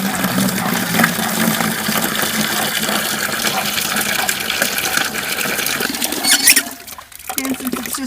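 Water runs steadily into a bucket being filled for chickens, a continuous loud gushing rush that cuts off abruptly near the end.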